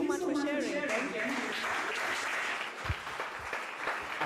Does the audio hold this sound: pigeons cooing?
no